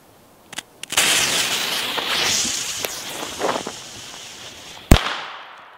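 A firework crackles and fizzes after a few sharp pops, ending in one loud bang, close and outdoors.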